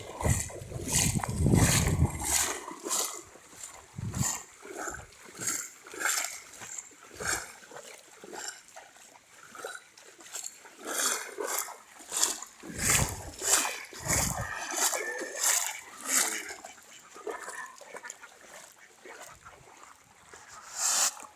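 Oars dip and splash through floodwater in a steady stroke rhythm as a boat is rowed, close by, with faint sounds of moving water between strokes.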